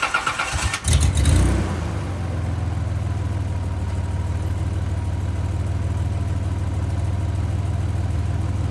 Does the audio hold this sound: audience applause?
no